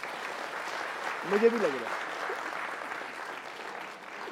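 Moderate audience clapping fills the background on a cricket talk show, with a man's brief remark spoken over the steady applause.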